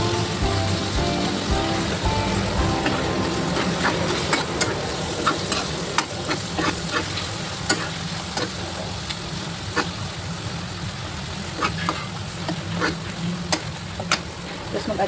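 Soy sauce poured over ground pork stir-frying for adobong sitaw: a loud, constant sizzle with sharp spatula scrapes and clicks against the pan, close up, with no talking.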